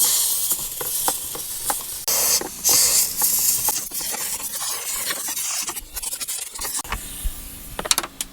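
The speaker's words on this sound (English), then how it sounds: "Let's go get some compressed air and make a big mess blowing it out." Compressed air wand blasting debris out of the AC coil of an OBS Chevy Suburban, a loud close hiss in bursts of varying length with brief gaps and scattering rattles.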